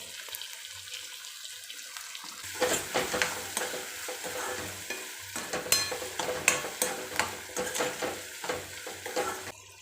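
Tomato and chili dropped into a hot frying pan and stirred, quiet at first, then a sudden burst of sizzling with repeated clattering spoon scrapes and crackles, close and fairly loud.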